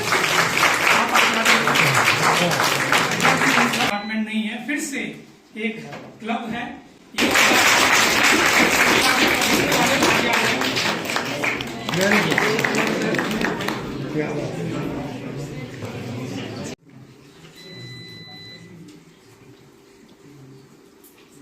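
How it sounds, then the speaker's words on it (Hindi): Loud applause from a quiz competition audience fills most of the stretch, with a short lull in the middle and a quieter tail, while someone speaks over it throughout. "जोरदार तालियां हो जाए।"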